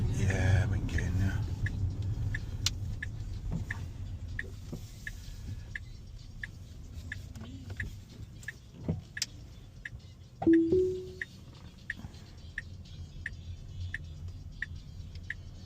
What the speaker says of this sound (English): So the car's parking itself